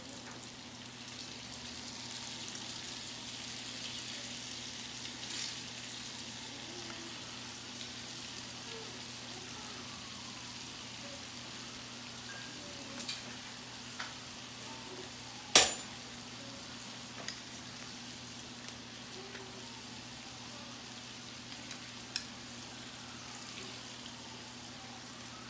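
Garlic shrimp with squeezed lemon juice frying in a pan, giving a soft, steady sizzle with a few sharp clinks of stirring breaking through.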